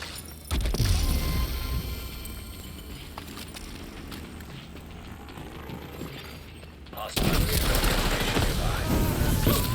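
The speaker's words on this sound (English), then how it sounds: "when they shoot their own weapon, it also triggers that fire to go off" Gunfire in The Division 2 as enemies fire their own weapons and set off flames, with dense crackling shots and a fiery roar, loud throughout, under a voice speaking in the middle stretch.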